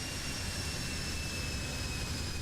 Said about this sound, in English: There's the reversers.